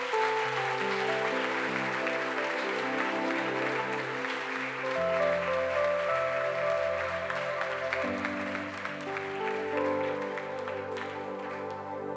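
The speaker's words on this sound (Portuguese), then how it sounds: "Vamos aplaudir Jesus?" A church congregation in Brazil applauds during a worship service, with steady clapping from many hands over sustained organ or keyboard chords.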